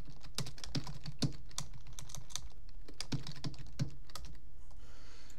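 Steady typing on a computer keyboard while naming a new folder for a CMake and C++ project, with a run of crisp, closely spaced keystrokes that pause briefly near the end.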